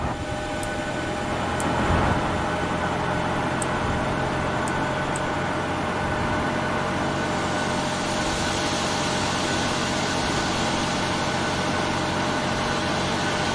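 PMDG 737 engine two spooling up in a flight simulator, a steady droning jet whine with faint tonal hum, holding a constant level throughout with a slight swell early on.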